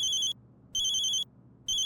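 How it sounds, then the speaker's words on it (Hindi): A telephone rings in three bright electronic bursts with short gaps between them, close and clear over a quiet room. "फोन आया।"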